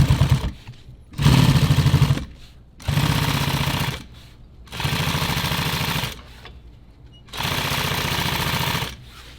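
A sewing machine stitches a nylon tactical EDC belt, running in four or five loud, steady bursts of rapid mechanical chatter separated by short pauses, with no talking.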